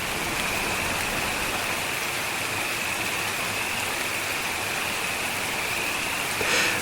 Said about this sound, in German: Schwere Tropfen fallen auf den trockenen Boden und sickern tief in die zerklüfteten Risse der monatelang ausgetrockneten Erde.